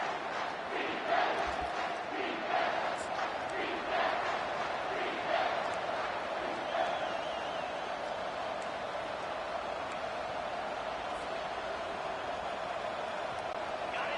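A big football stadium crowd roars steadily through a tense third-and-four late in an Oregon versus Michigan game, a dense sustained wall of cheering and shouting with a few louder swells.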